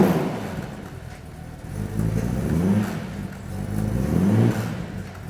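A restored Aston Martin DB4 GT Zagato engine revs twice, swelling from a deep idle to a rising growl and falling back, close and fairly loud, with no voices.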